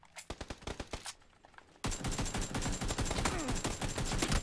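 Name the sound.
gunfire in the video game PUBG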